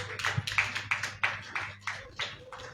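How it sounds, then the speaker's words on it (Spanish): Congregation clapping in praise during a church service, a steady run of about eight sharp hand claps in even rhythm, moderately loud and close, with no talk over it. "Dele palmas de alabanza al Señor, amados hermanos."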